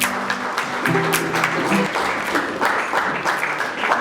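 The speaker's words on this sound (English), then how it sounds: "I believe you can do better with applause." Audience applause at a young entrepreneurs' hangout event, with steady, dense clapping sustained through the whole stretch and a low tonal hum beneath.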